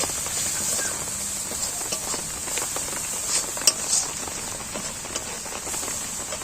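Shrimp and taro stolons frying in a pan while being stirred, a steady bright sizzle with scattered scraping taps of the spoon against the pan throughout.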